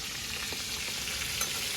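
Steady loud sizzling of freshwater fish from a wetland frying in hot oil, a continuous crackling hiss with no voices.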